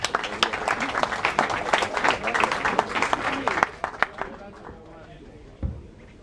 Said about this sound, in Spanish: Un aplauso para don Tomás, por favor.